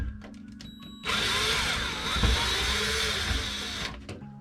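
Power screwdriver backing a screw out of a bathroom exhaust fan motor, a few faint clicks then a steady close whirring drill buzz for about three seconds that stops abruptly.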